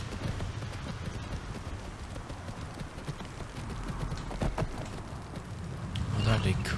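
A horse's hooves clip-clop steadily on the ground in a fantasy role-playing game, set under a continuous layer of ambient noise that swells slightly toward the end.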